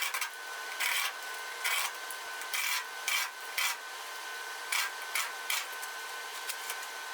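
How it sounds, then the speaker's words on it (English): A box knife scores and cuts through black asphalt roofing shingles in a series of short rasping strokes, close and fairly quiet, separated by brief pauses. "I cut them down to smaller pieces with a box knife."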